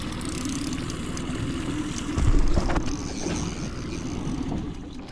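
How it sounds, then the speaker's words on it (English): A steady low boat engine drone runs throughout while trout fishing, with a brief louder surge midway, fairly close and unbroken. "Let's turn off the engine."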